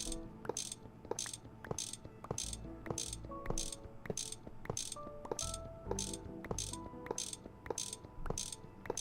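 Repeated ratcheting wrench clicks while machines are dismantled in the Minecraft modpack GregTech New Horizons, a steady rhythm of sharp mechanical ticks over a layered game-music background, no talking.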